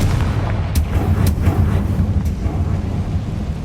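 A Confringo fire spell blasts in Hogwarts Legacy with a deep, rumbling boom. A few crackling impacts sit over a heavy low roar that persists throughout.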